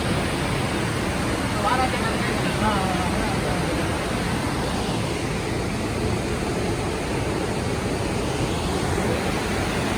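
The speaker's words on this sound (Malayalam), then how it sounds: "ഇപ്പം മലവെള്ളപ്പാച്ചിലാണ് ഈ കാണുന്നത്. മലയ്ക്കകത്തുനിന്ന് പാറയ്ക്കകത്തുനിന്ന് വെള്ളം വരുന്നതാണ്." Mountain torrent water rushing over rocks at Meenmutty Waterfalls, a steady loud broadband roar that fills the whole stretch without pause.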